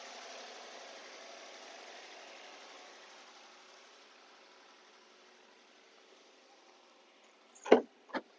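A Swift Dzire petrol car idles as a low, smooth steady hum that fades slightly, followed by two sharp knocks at the end.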